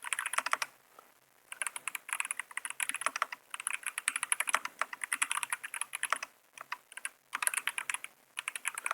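Rapid computer keyboard typing during the competitive typing game Word Wars, with quick, close clattering keystrokes in bursts separated by brief pauses and no talking.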